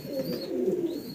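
Three pairs of pigeons packed in a cardboard carton for shipping by bus cooing, a muffled low warble rising and falling continuously, close and fairly soft.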